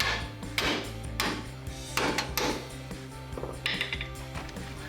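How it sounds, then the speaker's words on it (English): A mallet or hammer strikes a stuck bolt on a 2005-2015 Toyota Tacoma front lower control arm, several sharp metallic knocks in a loose, uneven rhythm, close and fairly loud in a garage. "so we're gonna get a mallet or a hammer and hit it out."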